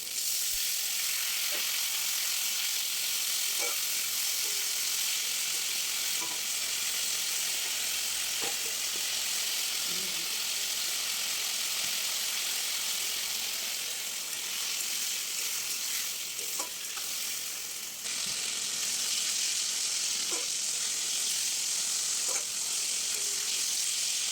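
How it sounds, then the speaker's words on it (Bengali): Spices with ginger paste sauté and sizzle steadily in a hot pan after water is added, a loud continuous frying hiss with occasional faint stirring clicks and no talk. "ভালো করে এগুলোকে আমি কষিয়ে দিচ্ছি।"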